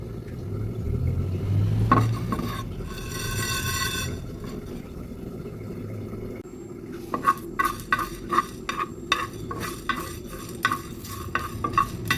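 Chopped bay leaf and a dried red chilli stirred and lightly fried in a pan, a soft sizzle under repeated scraping of a spoon against metal that turns into quick rhythmic clinks near the end.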